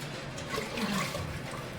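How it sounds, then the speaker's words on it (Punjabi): Water is poured into a pot of rice mixed with spices, a brief soft rushing splash that stays faint and continuous for under two seconds. "ਹੁਣ ਮੈਂ ਐਡ ਕਰ ਦੇਣ ਲੱਗੀ ਆ ਇੱਥੇ ਜਿੰਨੀ ਜਿੰਨਾ ਮੈਨੂੰ ਪਾਣੀ ਚਾਹੀਦਾ ਹੈ"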